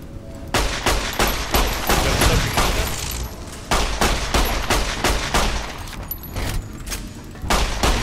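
Gunshots in Fallout New Vegas, a fast string of loud, close shots fired in quick bursts with short pauses, continuing for several seconds without talk.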